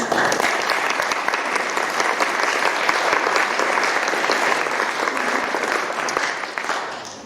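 Sustained applause from a concert audience congratulating the performers at a young composers' award concert, steady dense clapping held at even loudness for several seconds before tapering slightly at the end.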